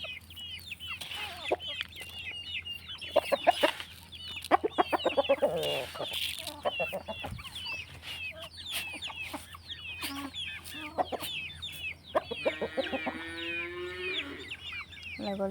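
Several chickens cluck and chatter close by in quick, uneven bursts while being fed rice, with busy pecking and scratching sounds between calls.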